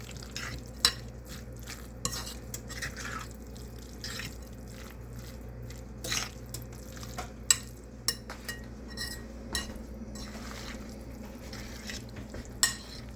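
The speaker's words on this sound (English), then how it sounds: "Now you're supposed to mix all this up real good." Pizza loaf mixture with mushrooms being stirred in a bowl, steady soft wet churning with repeated sharp clinks of a utensil against the dish.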